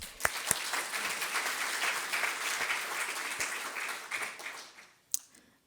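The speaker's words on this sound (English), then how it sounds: "So let's give a big round of applause for our presenters" An audience at a sustainability showcase applauds the presenters, a steady wash of clapping that fades toward the end, with a few sharp isolated claps.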